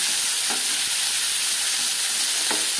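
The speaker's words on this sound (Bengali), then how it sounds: "শিম বেশ ভালো করে মিক্স করে দেবেন" Flat beans stirred and fried in a pan for a fish curry, with a loud, continuous sizzle and hiss and a few soft scrapes of the stirring utensil, close and alone.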